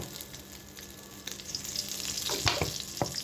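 Cooking oil left over from frying shrimp sizzles in a pan, a soft continuous hiss that grows a little louder toward the end, with a couple of sharp clicks from a utensil.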